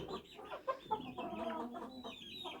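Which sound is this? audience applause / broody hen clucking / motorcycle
broody hen clucking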